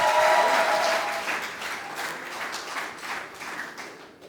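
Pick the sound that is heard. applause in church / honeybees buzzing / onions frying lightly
applause in church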